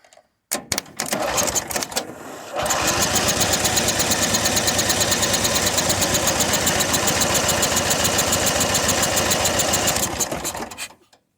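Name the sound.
Cub Cadet 1641 garden tractor engine cranking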